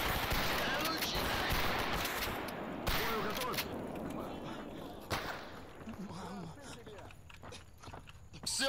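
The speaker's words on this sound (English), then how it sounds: "did I just shoot at the clear sky guy?" Gunfire in the video game STALKER, several sharp cracking shots in quick succession early on and a few later isolated reports, loud and close, with someone talking and exclaiming over the action.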